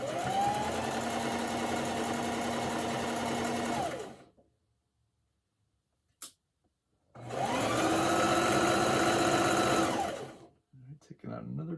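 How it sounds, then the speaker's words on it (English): A sewing machine stitches a fabric mask hood in two loud, steady bursts of close whirring, separated by a silent pause with one brief click, then a few short stitches at the end. "You just want to make sure everything's working right so you can sew, get your hood sewn"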